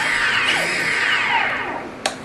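Electric motor of an RC model spinning up on a throttle test after a throttle cut toggle was installed on a Spektrum DX6i transmitter, a steady close whine shifting in pitch, ending with a short click.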